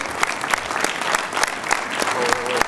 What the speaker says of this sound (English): Great standing ovation here